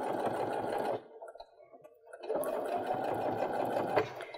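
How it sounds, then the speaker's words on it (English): A sewing machine stitches through fabric on a reverse appliqué snowflake pillow, running steadily, pausing for about a second, then resuming its continuous motor whir. "Maybe do just a little back stitch just to make sure you covered that area and continue on."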